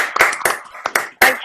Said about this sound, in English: if we could all unmute and give a massive clap, that would be fabulous